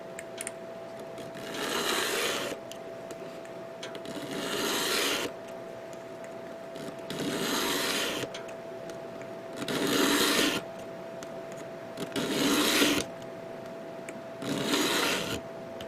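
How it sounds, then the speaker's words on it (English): Plastic parts from a ForceBuilders Death Star Attack Set being scraped with a tool in slow rough strokes of about a second each, close and steady, with a constant hum between strokes. "So I'm going to continue scraping"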